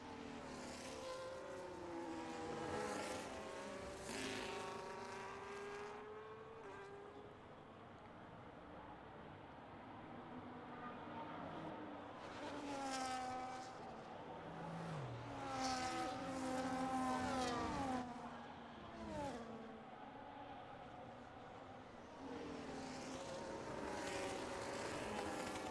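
Race cars running laps behind the safety car during a Miami Grand Prix in a racing game, a distant buzzing chorus of engines swelling and fading as cars pass, faint throughout with no voices.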